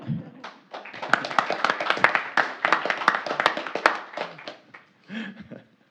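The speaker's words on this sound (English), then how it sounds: "maybe we should give her a round of applause" A small group at a city council meeting clapping in a brief, uneven round of applause, individual claps distinct and fairly close, tapering off near the end.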